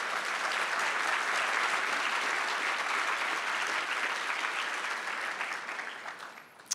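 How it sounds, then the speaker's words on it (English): A public lecture audience applauds steadily, a dense crowd of claps sustained for several seconds before fading out at the end. "Let's give them a round of applause."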